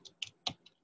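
A few quick keystrokes land on a computer keyboard as a handful of faint, close clicks in under a second, with no talking.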